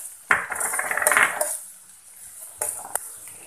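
Green chillies and onions stirred in a cooking pan for chana curry, with metal utensil scraping and clinking against the pan in two bursts, close and moderately loud, no talk.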